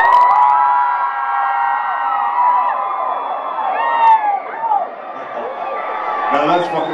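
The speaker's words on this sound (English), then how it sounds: "Can I just hear the ladies scream for me?" Women in a concert audience at a live heavy metal show in Hollywood scream and whoop in a loud, sustained crowd roar that rises and falls for several seconds, with one swell near the end.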